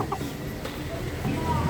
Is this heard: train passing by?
no